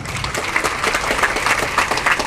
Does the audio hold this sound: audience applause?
yes